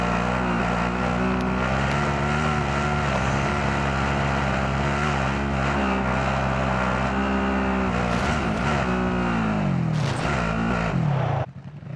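Vehicle engine humming steadily while driving in a recon mission video game, a loud continuous drone with shifting pitch as it accelerates and eases, cutting off abruptly at the end.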